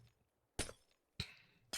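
Glass blocks breaking in Minecraft's FTB OceanBlock modpack, three sharp shattering crashes spaced about half a second apart, each decaying quickly into near silence.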